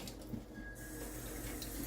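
Water poured onto a freshly sanded surface runs in a steady, close trickle across the top, a continuous splashing wash with no voices over it.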